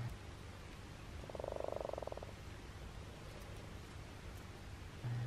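Frogs met on a hike give a single short burst of croaking in the middle, fairly faint over a steady outdoor background hiss, with a low thump near the end.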